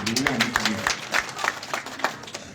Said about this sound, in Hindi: को ताली बजानी चाहिए पूरी महिलाओं को।